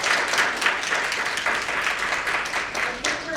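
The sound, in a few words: applause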